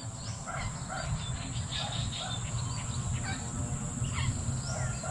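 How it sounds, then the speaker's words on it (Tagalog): Many birds calling and singing across a lakeside wetland, repeated short chirps and whistles scattered near and far over a steady background of insects and faint distant sounds. "Di ba ang dami humuhuning ibon?"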